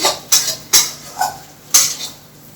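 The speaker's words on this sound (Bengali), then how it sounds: "এবার এই ভাজা মশলাটা আমি হাঁড়ির মধ্যে দিয়ে দিচ্ছি।" A fried spice mixture is added into a cooking pot with several sharp metallic clanks and knocks of a utensil against the pot, four or five separate hits, loud and close.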